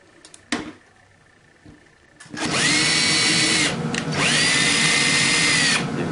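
A power drill drives a screw into clamped MDF: a couple of clicks and handling knocks, then the motor whirs up loudly and runs steadily for several seconds, dipping briefly once before spinning on. No one talks.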